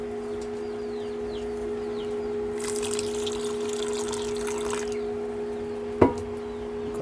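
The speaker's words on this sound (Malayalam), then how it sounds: "നമുക്ക് കുറച്ച് വെള്ളം ഒഴിച്ചു കൊടുക്കാം." Water is poured into a thick cooking mixture in a short splashing rush of about two seconds over a steady hum. Faint chirps sound in the background and a sharp click comes near the end.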